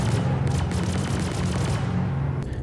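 Sustained automatic gunfire in the video game Star Citizen, a dense, loud stream of rapid shots over a low rumbling hum, nearly continuous for the whole stretch.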